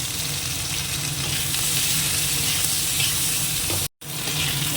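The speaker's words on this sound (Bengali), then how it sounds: "যে আলু আর পেঁপেটা ভাজা হয়ে গেছে" Potato and papaya pieces fry in hot oil in a kadai, a steady loud sizzle running continuously with a brief cut near the end.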